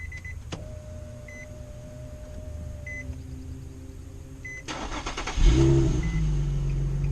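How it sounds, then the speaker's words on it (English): A 2008 Infiniti FX35 heard from inside the cabin: a soft chime and electric whir, then the key turns, a brief crank and the engine catches into a low, steady idle, close by with no talking. "I'm gonna go ahead and start to turn the key."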